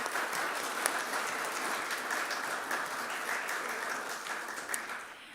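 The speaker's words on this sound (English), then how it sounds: "Please join me in giving Heather another round of applause." An audience at a literary awards ceremony applauds, a dense, even patter of many hands clapping at moderate distance, continuous throughout and fading slightly at the end.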